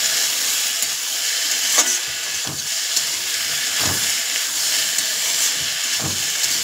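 Food frying in a pan with salt added, a close, steady sizzle and hiss with a few soft stirring knocks scattered through it.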